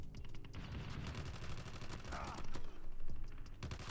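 Rapid bursts of AGR 556 assault rifle fire in the mobile shooter Call of Duty Mobile, loud and sustained throughout, mixed with other gunfire and game effects.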